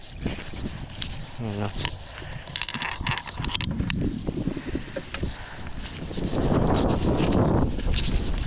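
Strong afternoon wind buffets outdoors, roaring and gusting over the microphone and swelling louder toward the end, while people talk beneath it.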